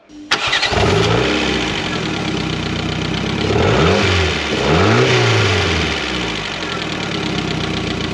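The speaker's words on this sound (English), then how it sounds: "It still sounds a bit like a tank, but that's because the exhaust is broken off completely." A Mk4 Ford Fiesta engine starts and runs loud and rough, its exhaust broken off completely, with a raw, rumbling note that rises and falls as it is revved.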